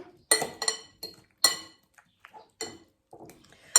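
Eggs and cooked potatoes mixed together in a bowl for a Spanish tortilla de patatas, heard as irregular clinks and scrapes of utensil against dish, several short bursts close and fairly loud with quiet gaps between.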